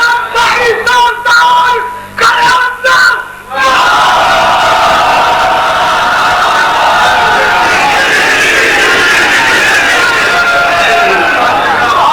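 A crowd at a religious gathering yells a slogan together, a loud sustained roar of many voices following a few seconds of a voice.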